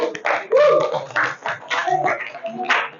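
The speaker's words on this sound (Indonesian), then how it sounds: "Kasih tepuk semangatnya." Classroom students clapping in an energetic cheer after a group's presentation, bursts of rhythmic claps close by with voices and chatter mixed in throughout.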